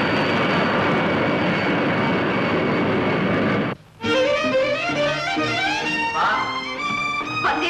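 An airplane roars past as a sound effect in a 1972 Kannada film, a loud, dense rushing drone that cuts off abruptly after about four seconds and gives way to music.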